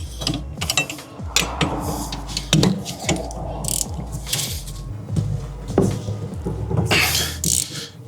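A wrench or ratchet works on 14 mm bolts during a rear wheel bearing replacement on a 2012–2015 Honda Civic. Close bursts of quick ratcheting clicks repeat between short pauses and handling noise.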